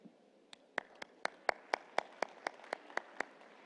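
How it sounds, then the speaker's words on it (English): A few people clapping in a rhythmic, evenly spaced beat at an IPU assembly in Nusa Dua, Indonesia, about a dozen sharp claps, faint and somewhat distant, with no talking. "they deserve a round of applause"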